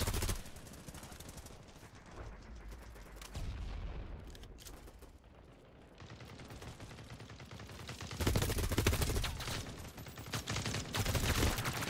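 Rapid bursts of HK419 rifle fire in the shooter game BattleBit Remastered, automatic volleys with a few pauses and heavier explosive booms mixed in, loud and close with no talk.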